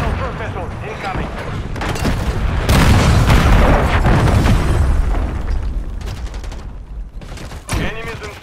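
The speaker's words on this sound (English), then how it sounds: "Hostile cruise missile incoming." Cruise missile explosions in the video game Modern Warfare 3, a loud rolling boom that swells and sustains for several seconds amid gunfire and battle noise, with game voices calling out over it.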